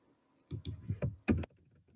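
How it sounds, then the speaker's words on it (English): A short, quiet burst of typing on a computer keyboard in an office training session: around six distinct key clicks and taps clustered within one second, alone without speech. "So then if that were the case, we can type in here,"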